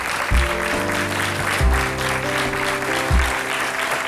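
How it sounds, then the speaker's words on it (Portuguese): Studio audience applause on a Portuguese afternoon TV programme, sustained clapping at moderate level with a low tonal sound, likely music or a voice, swelling in three brief bursts beneath it. "Um grande aplauso."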